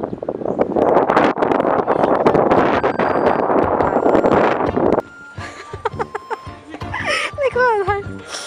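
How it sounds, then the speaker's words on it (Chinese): Very strong wind batters the microphone outdoors in the Netherlands, a loud roaring buffet lasting about five seconds before it drops and people talk and laugh. "喎，系超大风啊！"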